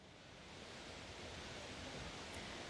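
Steady, loud broadband rush of Hongje waterfall in Seoul, a continuous water roar filling the whole stretch without pauses, heard alone with no voices.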